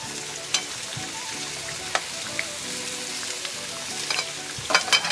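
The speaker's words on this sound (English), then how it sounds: "we need to cook the onions until they're just soft, but not brown" Onions frying in a pan until soft make a continuous close sizzle, broken by occasional clicks and scrapes of stirring and a low hum of background noise.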